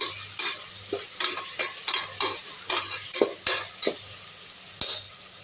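Tomatoes and yogurt sauté for a vegetable tomato biryani under a steady sizzle, stirred in quick repeated strokes with rhythmic scrapes and clicks of the spoon against the pan, close and fairly loud.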